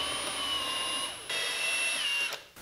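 Power tool spinning out the 7 mm bolts on the inside of a Corvette C7 Stingray front bumper, a steady high-pitched whir that stops briefly midway and then runs again before cutting off.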